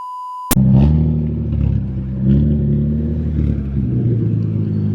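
A loud Ford Mustang 5.0 engine on a dyno starts up abruptly and revs in steady surges, deep rumbling exhaust up close with rising and falling pitch, no voices.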